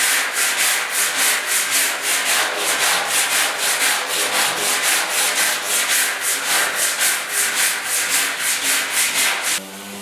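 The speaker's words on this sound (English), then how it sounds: "Now it's time to just hit her with some 80 grit, finish this fender off." Hand sanding of a metal truck fender with 80 grit paper on a 1972 Ford 4x4 makes a rhythmic back-and-forth scrape. About two strokes each second repeat steadily and close up, stopping just before the end.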